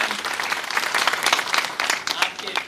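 Applause from an audience at a welfare organisation's district seminar in Pakistan, a steady dense wash of many hands clapping throughout, fairly loud and close, with a voice faintly heard over it.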